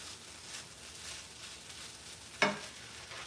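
Veggie fried rice with celery, carrots, peppers and Shanghai bok choy stir-frying, a faint, steady sizzle with soft stirring and one sharp clink of a utensil, no talk.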